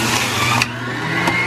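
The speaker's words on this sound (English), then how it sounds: "I'm gonna get my juicer out and run it through my juicer" A motorized juicer running loud and steady close by, processing celery, cilantro, cucumber and lemon, with a whirring motor drone that dips briefly partway through.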